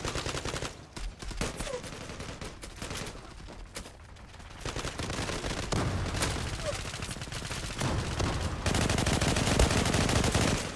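Sustained automatic rifle fire from an AK-47 in the online shooter Zula, dense bursts of rapid shots close and loud, running almost continuously with brief gaps and intensifying toward the end.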